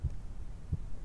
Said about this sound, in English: In the house, heart beating.